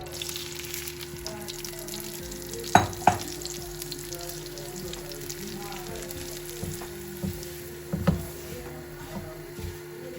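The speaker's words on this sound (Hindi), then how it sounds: "सूजी को थोड़ा भून लेंगे। इसको तकरीबन 5 मिनट के लिए हल्का सा भूना बस।" Semolina dry-roasting in a pan for a homemade date-shaped sweet, giving a faint steady crackle and sizzle with a few sharp clinks of a spoon against the pan.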